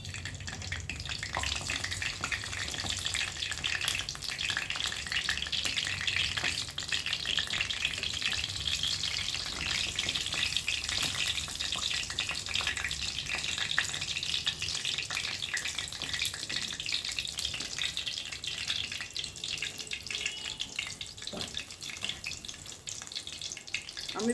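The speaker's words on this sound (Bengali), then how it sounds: "দেখুন কিরম লাল লাল ভাবে চপগুলো ভাজা হচ্ছে।" Chops sizzle and crackle in hot oil in a pan, a continuous bubbling fry with scattered pops, close and steady throughout.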